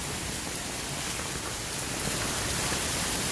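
Heavy rain pours steadily through a June storm, a dense, even hiss of downpour close by with no gaps, rising slightly toward the end.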